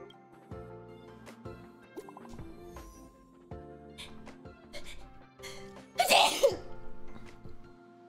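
A sneeze bursts out once, sharp and fairly close, during a Honkai Star Rail playthrough, standing above faint game music and chimes with no talk over it.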